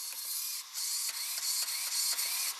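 The steering servo of a Traxxas Rustler 4x4 VXL RC car whines in several short, high-pitched electric bursts separated by brief pauses, heard up close.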